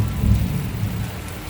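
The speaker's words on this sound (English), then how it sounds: "we got thunder and lightning" Heavy afternoon rain pours in the Philippines, a dense close downpour with a deep rumble of thunder swelling early on and then fading under the steady rainfall.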